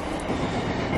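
A loud, dense rumble of a train rolling past nearby, a steady broadband roar with no pauses.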